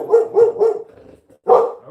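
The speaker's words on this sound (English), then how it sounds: "And the dog wants out." A dog barks three times in a quick, even rhythm, pauses, then lets out one more bark, close and loud indoors as it asks to be let outside.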